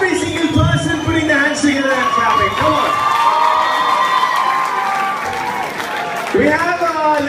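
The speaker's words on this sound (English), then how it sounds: "I want to see every single person putting their hands together and clapping." Loud, continuous cheering from a college audience at a BITS Pilani campus event, a packed hall of shouting voices and hand claps that dips briefly before swelling again.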